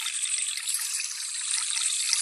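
Running water from a sink tap in the Toca Kitchen 2 cooking game, a steady, bright, hissy stream that holds even and unbroken for a couple of seconds with no voices over it.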